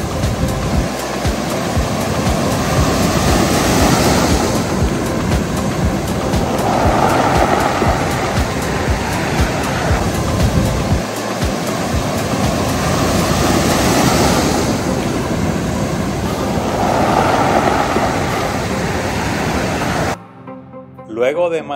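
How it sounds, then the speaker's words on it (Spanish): Strong waves pulling back over the rocks of a Puerto Rico shoreline at Fajardo make a loud, continuous wash of crackling hiss, like applause, swelling and easing in slow surges, heard close and alone. "fue interesante el sonido que se generaba en la costa al retirarse las olas"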